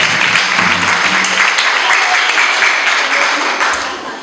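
Guests at a wedding in Edo State applaud the newly married couple, a loud, sustained burst of clapping that tapers off slightly at the end.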